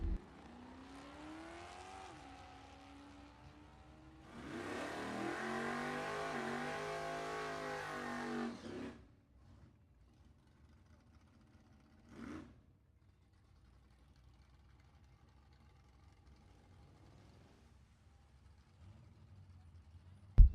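A Camaro and a Ford Mustang make a drag race run at a bracket race, engines revving and then roaring loudly as they launch, fading quickly to near silence with one brief distant burst later.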